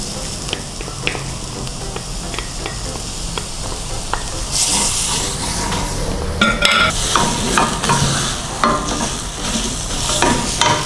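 Tomato paste is stirred in a hot frying pan, with a steady sizzle and repeated scraping strokes of a spoon that grow louder and busier partway through, heard close up without talk.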